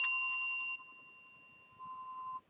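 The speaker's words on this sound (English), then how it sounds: "Well, I'll just give you a bell for that, Ricky." A single bell ding rings out clear and bright, its tone fading away over a couple of seconds, then a softer second ring near the end, with no talk over it.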